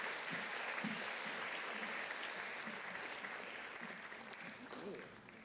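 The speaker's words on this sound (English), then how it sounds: "please give a big, warm round of applause for Mr. Choong Chi-Ren" An audience applauds at a morning filmmaking presentation, a steady wash of clapping that holds throughout and slowly fades toward the end.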